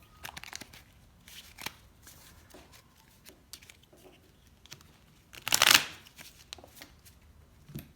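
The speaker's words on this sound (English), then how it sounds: "put these back into my deck and shuffle them." Pokémon Trading Card Game cards are handled with soft flicks and taps, then a quick riffle shuffle bursts out loudly near the middle before quieter clicks resume.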